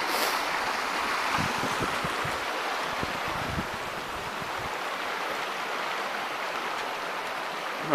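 Stream of the Casa de Piedra creek flowing beneath a bridge, a steady broadband rushing wash that holds even for the whole stretch, heard alone with no voices.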